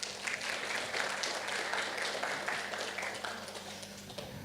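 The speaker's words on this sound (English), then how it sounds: "Can we please have a huge round of applause for sir?" An audience at a business accelerator demo day applauding, a sustained dense wash of clapping from a crowd lasting several seconds at an even level.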